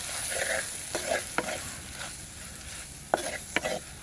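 Jaffna chili powder frying in a pan for cuttlefish curry, stirred with a spoon, a soft sizzle under repeated scraping strokes and clicks, close and without talking.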